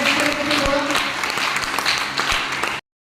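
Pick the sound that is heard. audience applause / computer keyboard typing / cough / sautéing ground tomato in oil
audience applause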